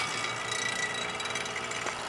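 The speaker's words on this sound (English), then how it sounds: "we hooked up the yellow line to the vacuum pump, and now we're going to pump out the system" A vacuum pump hooked up to a car's air conditioning system runs steadily, a dense, even mechanical whir with a faint rattle, close and loud with no talking.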